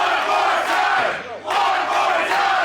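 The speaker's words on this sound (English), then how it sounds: "The crowd chanting for one more time." Wrestling crowd chanting in unison at a live event, loud rhythmic group shouting with a brief dip in the middle before the chant resumes.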